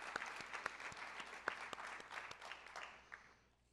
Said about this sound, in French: Une grande main d'applaudissements